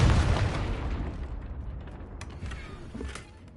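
A Confringo spell blast in Hogwarts Legacy: one heavy boom at the start that rolls off into a rumbling, crackling decay, with a few small pops toward the end.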